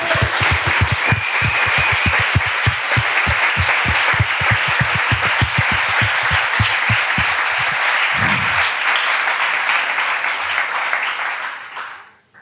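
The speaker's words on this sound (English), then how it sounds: "I would really appreciate a big round of applause for all the teams that have presented today." A large audience at a startup demo day gives a big round of applause, dense steady clapping filling the room for about eleven seconds, with loud whoops and cheers, before fading out at the end.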